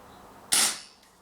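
A Marlin 6mm CO2 revolver fires a single sharp, close crack with a quick hissing decay, then a faint click.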